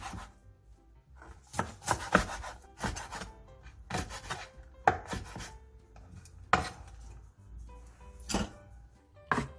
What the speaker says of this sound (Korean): 불려놓은 고사리를 3cm 정도 길이로 잘라주세요.